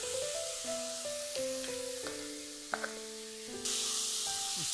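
Beetroot and yard long bean thoran with turmeric stir-frying in a pan gives a steady soft sizzle under background music, with a couple of brief stirring clicks.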